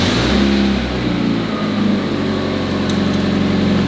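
A barn-find Mazda Miata engine runs roughly just after starting, with a throbbing, uneven low idle that wavers close to the microphone and no speech over it.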